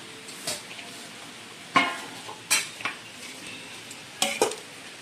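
Rice is served onto plates in a home kitchen, with a few scattered clinks and scrapes of a spoon against pots and dishes over a quiet background and no talking.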